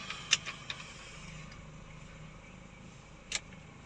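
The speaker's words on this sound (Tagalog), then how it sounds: "Painitin lang konti, makina." A Toyota Tamaraw FX with a 7K gasoline engine idles in a garage while warming up, giving a steady low hum with a few sharp clicks near the start and end.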